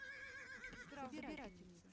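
A horse whinnies in the strategy game Age of Empires 2, a quavering neigh that rises and falls over about a second, heard fairly close over faint background game sound.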